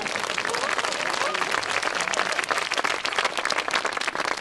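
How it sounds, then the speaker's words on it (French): A live audience breaks into dense, sustained applause, many hands clapping loud and close throughout. "Vous pouvez applaudir, allez-y."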